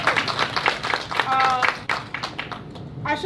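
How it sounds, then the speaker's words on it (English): Applause from an audience at an open mic poetry night honouring Tina Turner, steady broadband clapping through the clip with some voices mixed in. "Give Megan a round of applause"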